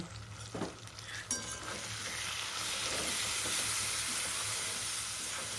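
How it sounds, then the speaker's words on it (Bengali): Cumin, coriander, turmeric and chilli powder masala sautéing in a pan, a steady close sizzle and hiss with a few stirring clinks near the start, rising to a continuous frying wash. "মশলাটাকে ভালো করে এবার কষিয়ে নেব।"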